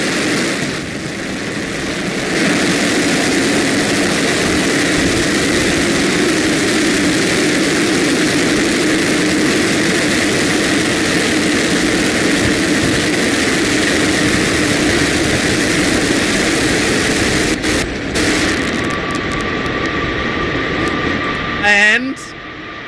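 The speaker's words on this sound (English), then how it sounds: "There are the engines. Landing burn ignition." SpaceX Starship booster engines roaring through a landing burn, a loud sustained rumble heard from a distance, with people talking and reacting excitedly over it until the sound cuts off near the end.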